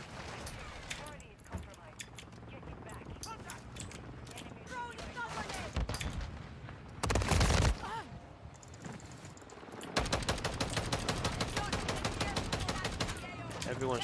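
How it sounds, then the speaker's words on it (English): Rapid bursts of automatic gunfire and sharp shots in Call of Duty Modern Warfare 3, growing dense and loud in the final seconds, with a player talking over the action. "Taking effective fire."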